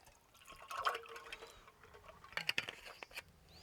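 Sparkling soda water poured into a glass of iced coffee with ice cubes, giving a quiet, close fizzing patter with brief bubbly splashes and trickles coming and going over a few seconds.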